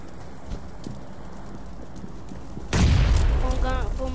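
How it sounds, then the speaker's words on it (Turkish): A bomb going off in a video game: one sudden loud blast about two-thirds of the way in, followed by rumbling debris, after a quieter stretch of low background noise. "Bomba atacağım."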